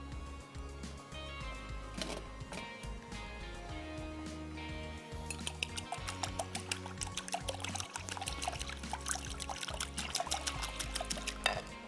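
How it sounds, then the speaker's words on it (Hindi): Milk and an egg poured into a bowl for mixing, a soft, steady liquid pour and trickle that grows busier in the second half, heard under background music. "दूध, 1 अदद अंडा, ये डाल के मिक्स कर लेंगे।"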